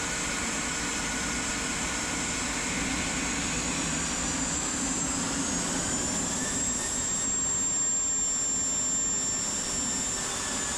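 Twin turbofan engines of a Phenom 300 business jet spool up for takeoff on runway 30, a steady loud roar with a rising high-pitched whine, continuous and close, no talk.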